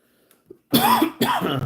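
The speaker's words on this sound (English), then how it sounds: "Sorry about the coughing" Two harsh coughs in quick succession from a sick person, close and loud, after a brief faint throat sound.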